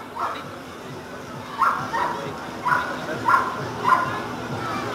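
A dog in a training session gives a short series of sharp barks, about five spaced evenly over a few seconds, at moderate distance over a noisy outdoor background.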